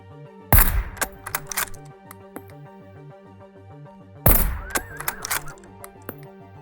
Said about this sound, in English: Watch my terrible shooting here.